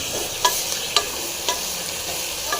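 Drumsticks and radish being stirred in a frying pan for sambar, with a soft continuous sizzle and four spaced clicks of a spoon against the pan, close and with no voices.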